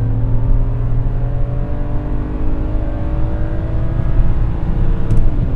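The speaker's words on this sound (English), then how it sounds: "we're just doing a pull here, and first of all, the gearing in this car is so long" A BMW E90 328i with an inline-six engine accelerating through a long-geared pull, producing a loud, continuous drone that climbs steadily in pitch with no talking.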